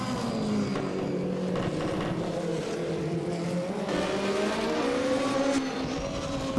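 Jose Alvarez's Group H car climbs the St. Ursanne Les Rangiers hill, its engine revving hard and continuously through gear changes, loud and close, with a hint of tire squeal.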